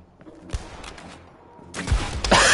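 Assault rifle fire in the video game Blood and Truth, a single sharp shot followed by a louder burst of rapid gunfire near the end amid game noise, no talk.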